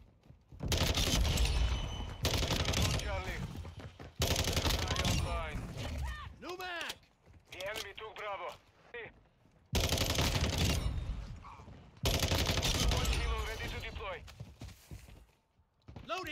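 Gunfire from Modern Warfare 2 multiplayer with an FSS Hurricane SMG class, loud bursts of automatic fire in repeated clusters, mixed with in-game voice callouts throughout.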